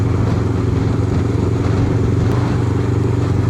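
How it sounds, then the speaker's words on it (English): A motorbike engine drones steadily at close range while riding under a train, a constant low throbbing rumble with no pauses. "Don't think I've ever ridden a motorbike under a train before."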